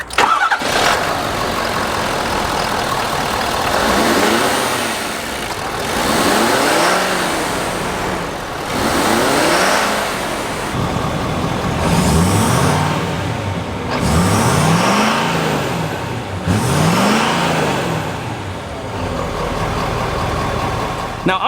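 A 2015 Ford F250 King Ranch pickup with emissions equipment revs repeatedly from idle, each rev swelling and falling in a regular rhythm, loud and close, with some talk in the background.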